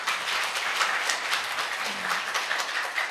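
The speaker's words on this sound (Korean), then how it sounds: "자, 이 두 분 위해서 박수 한번 쳐주세요." A church congregation claps in a sustained, even round of applause, many hands together at moderate loudness without a break.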